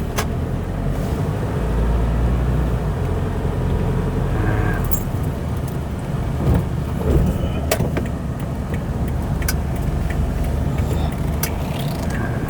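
A 2013 Isuzu D-Max four-door automatic pickup with a 3.0 DDI VGS diesel engine, heard from inside while driving normally, a steady low road and engine rumble with occasional small clicks and rattles.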